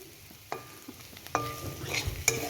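Chicken momo filling frying in a pan, a crackling sizzle with several sharp clattering stirs, close and moderately loud, with no one speaking.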